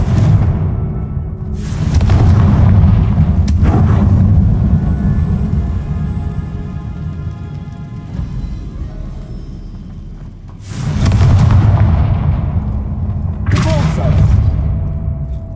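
Confringo blasting spells exploding in Hogwarts Legacy near a barricade: several loud, booming blasts come in separate bursts over a continuous low rumble of game ambience.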